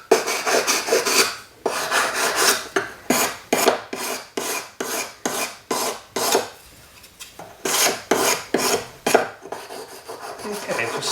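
Coarse sandpaper rubs back and forth along the edges of a melted sterling silver cuff bracelet, a close, steady rasping in repeated rhythmic strokes with brief pauses between them.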